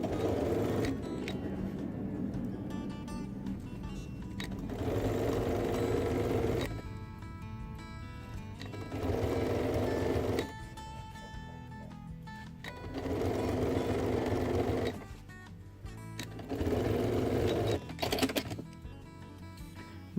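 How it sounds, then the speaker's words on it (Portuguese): A sewing machine runs a seam along the edge of padding on a backpack, its rapid needle clatter coming in several sustained bursts of a few seconds each, separated by short pauses, close and steady. "vou passar uma costura na manta"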